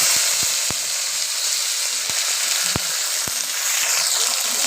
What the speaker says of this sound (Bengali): ঢেঁড়সটা ভেজে নেবো। তেলটা গরম হয়ে গেছে